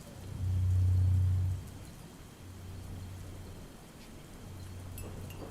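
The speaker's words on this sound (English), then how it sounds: "That grumbling in the distance, louder, the rain pelting even harder in tandem." Steady heavy rain hisses throughout while a deep rumble of distant thunder swells near the start and returns faintly later.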